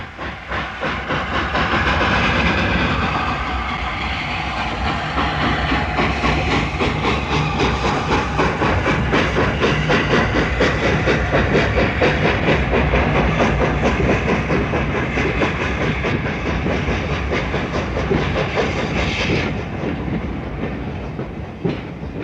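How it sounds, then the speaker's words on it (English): A train pushed from behind by a Class 31 diesel locomotive rolls steadily along with continuous rumbling and rhythmic clickety-clack, a hissing layer on top, loud and close throughout. "the Class 31 diesel pushed from behind, and the train slowly moved."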